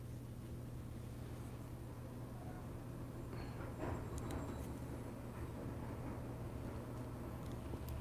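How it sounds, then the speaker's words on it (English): A garbage truck rumbles outside with a steady low engine drone, joined by brief clanks and higher mechanical whines partway through, all muffled and distant with no talk. "Oh, I think we've got the garbage truck out there now too."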